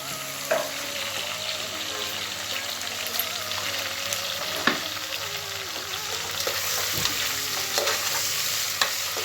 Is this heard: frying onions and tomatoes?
yes